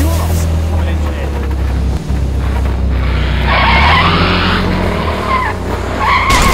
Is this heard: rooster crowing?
no